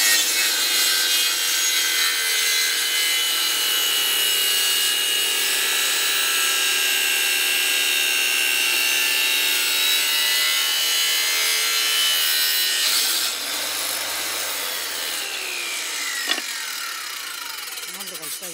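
Hand saw cutting through a thick piece of wood in steady back-and-forth strokes, a loud, continuous rasp close by that eases slightly near the end as the cut finishes.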